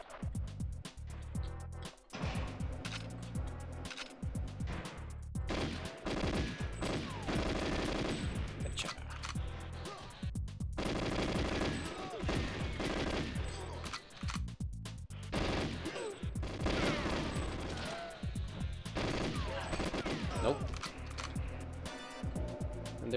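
Dense, nearly continuous gunfire from the video game GoldenEye, with rapid automatic bursts and loud shots over a busy game soundscape that barely drops out for the whole stretch.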